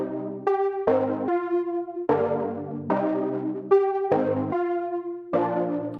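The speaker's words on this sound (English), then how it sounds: "So what I did is I took that sound, I exported it, I pitched it down a few notes," An exported Serum-style synth sound pitched down a few notes plays as a series of sustained chord stabs that shift every second or so, full and loud with no voices.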